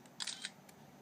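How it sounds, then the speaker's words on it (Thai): Canon G12 compact camera shutter firing with a quick cluster of close, crisp clicks followed by a fainter single click, alone in a quiet room. "กดตรงกลางโฟกัสก่อนนิดนึง แล้วก็แชะ"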